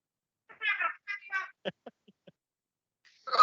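A cat lets out a few short, close meows, followed by several soft clicks and another meow-like cry at the end.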